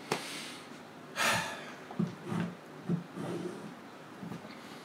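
Heavy, ragged breathing after an energetic rap session: a sharp gasp, then a series of snorting exhales and panting breaths, close to the mic with no talking.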